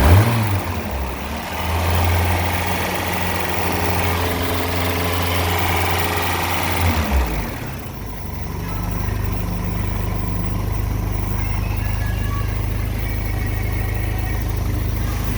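A car engine runs after a repair to the starter wiring, idling loud and close with a steady low drone; the pitch drops briefly midway, then it settles into an even, heavier hum.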